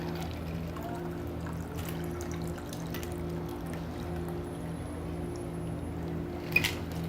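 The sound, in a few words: pouring caramel apple martini mixture into a glass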